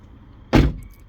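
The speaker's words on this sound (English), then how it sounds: "Close the door." A solid, heavy door thud on a 2016 BMW 228i xDrive Cabriolet (F23), a single loud close standing alone against a quiet background.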